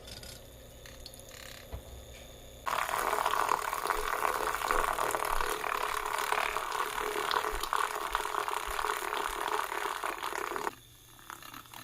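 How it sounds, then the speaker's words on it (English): A handheld milk frother whips cream with vanilla, starting abruptly as a loud, steady buzzing whir with bubbly churning, holding for about eight seconds, then cutting off to a quieter background. "I'm going to use my milk frother to turn it into whipped cream"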